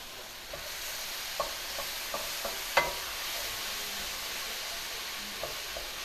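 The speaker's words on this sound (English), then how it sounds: "start to add a little bit of teriyaki. And it's going to caramelize on there beautifully." Mushrooms cook in a hot pan with teriyaki sauce for dan dan pork ramen, a steady sizzle with scattered sharp clicks and scrapes from stirring, no one talking.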